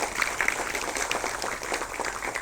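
An audience applauding to welcome the Governor of Uttarakhand at a formal event, with many hands clapping in a continuous, moderately loud patter and no voices over it.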